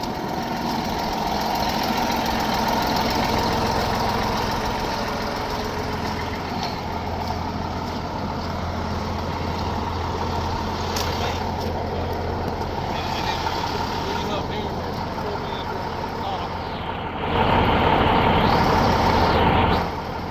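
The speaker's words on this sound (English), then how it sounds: "One of the houses up at the top got a big boy tractor." A big tractor's diesel engine idling steadily nearby on an off-road recovery site, a continuous low rumble throughout with a brief louder rev near the end.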